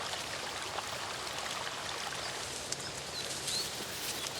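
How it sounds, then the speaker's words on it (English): A forest stream runs steadily with a soft, continuous broadband rush of flowing water, moderately distant, with faint bird chirps over it and no talking. "Streams run through the trees."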